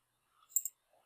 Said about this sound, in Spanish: hay que darle clic acá en seleccionar